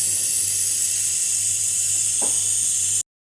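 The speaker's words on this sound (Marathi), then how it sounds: "कुकरची वाफ गेली, आता आपण झाकण काढूया" A pressure cooker vents steam after cooking a spicy brinjal curry, giving a loud, steady hiss that runs unbroken for about three seconds under a low hum. A brief soft clunk sounds near the end before it cuts off.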